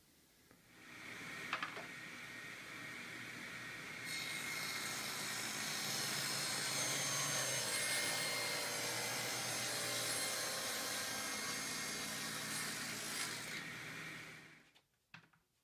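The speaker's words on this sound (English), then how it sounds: "So I'm going to cut the other dados" A saw cuts dados in reclaimed oak for a wall shelf, spinning up, then grinding through the wood in one long, steady, loud cut before winding down and stopping.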